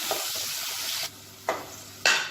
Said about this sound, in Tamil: வெங்காயம் நல்லா வதங்கிடுச்சு